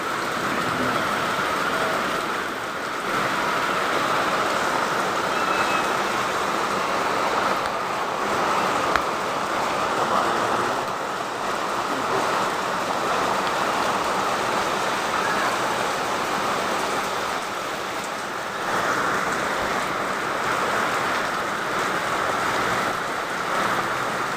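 Steady, even rain hisses continuously, a dense wash of patter with no pauses and no voices.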